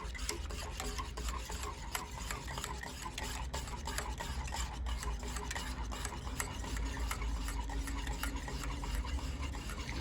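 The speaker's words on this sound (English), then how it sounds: "Got to keep whisking" Butter beer mixture is whisked steadily in a bowl, a continuous scraping, rubbing swish with rapid ticking strokes, fairly quiet and close with no voices for ten seconds.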